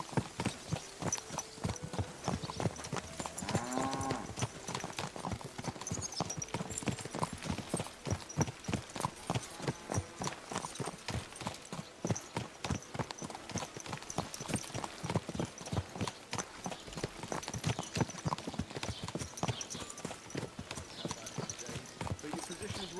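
Horse hooves clip-clop at a steady walking rhythm in the medieval game Kingdom Come Deliverance II, close and continuous for the whole stretch, with people talking over the hoofbeats.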